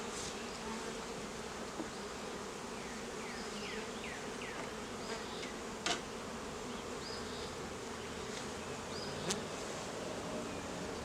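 Honeybees buzzing in an open hive with frames being drawn above the queen excluder, a dense continuous drone with a few individual bees zipping past, soft and steady with no voices.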